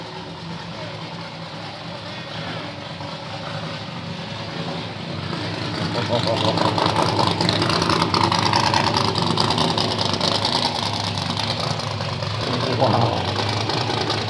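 A 1962 Chevrolet Bubble Top Pro Street with a 1,100-horsepower 555 big-block Chevy V8 idles loudly and steadily at an auction, its rumble building and holding, with crowd noise and talk throughout.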